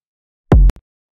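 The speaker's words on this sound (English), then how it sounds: "Starting with a kick drum." Single electronic kick drum sample for a remake, a short booming thump with a quick click on top, isolated and close.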